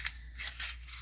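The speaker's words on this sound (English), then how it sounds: "I'm gonna crumple this guy up. Let's roll it in a ball." Sheet of textured craft paper crumpled and rolled into a ball during stamping work, heard as a few close, dry crackling bursts with no talk.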